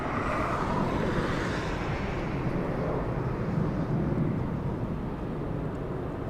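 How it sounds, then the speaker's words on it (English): A Western Global MD-11 tri-jet lands, its broad, heavy jet roar rumbling steadily at a distance with a slowly fading high-end whine and no voices. "The tri-jet landing south right now."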